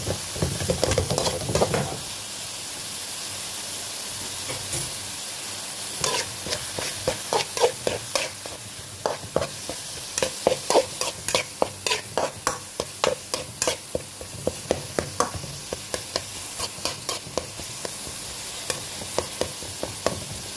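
Ground beef frying in a pan for a bitter melon (ampalaya) dish, a constant sizzle overlaid with a long run of rhythmic spatula scrapes and clacks, close and fairly loud.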